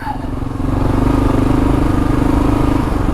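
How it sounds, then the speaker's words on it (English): A Gen 3 Kawasaki KLR motorcycle running on a trail, its engine a close, steady throbbing drone held at an even pitch while riding, with some light mechanical clatter and no talking. "cutting the throttle off and rolling back on and nothing's happening"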